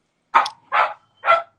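A neighbor's dog barks three times in a quick, evenly spaced sequence, fairly close and clear, with no talking over it.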